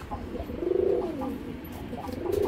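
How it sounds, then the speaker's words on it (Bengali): Long-flying racing pigeons coo close by in a repeated, rolling, throaty rhythm, several coos in a row with faint chirps in the background. "এগুলা যারা পাল্লা লাইনের কবুতর খুঁজতেছেন এই কবুতরটা নিতে পারেন"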